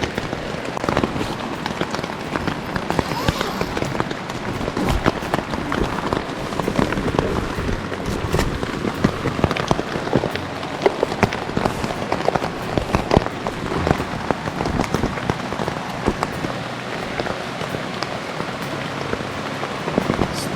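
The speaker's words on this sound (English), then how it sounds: "Oh, I wish it would stop raining." Rain drums steadily on a tent and surfaces at a campsite during a tropical storm by a river, a dense, close patter with scattered louder drips, continuous throughout.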